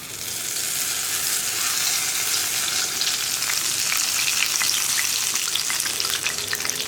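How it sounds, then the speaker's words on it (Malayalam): Chilli bajji, battered green chillies, deep-frying three at a time in hot oil in a pan, giving a loud, steady, dense sizzle with bubbling crackle throughout and no talking. "ഞാനിപ്പോൾ ഒരു സമയത്ത് 3 എണ്ണമാണ് ഫ്രൈ ചെയ്തെടുക്കാൻ പോകുന്നത്."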